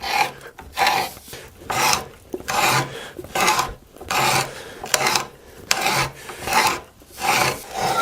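A wooden dowel being turned through a threading tool to cut bolt threads, making a rhythmic rasping scrape in repeated strokes of about half a second, close and loud with short gaps between turns.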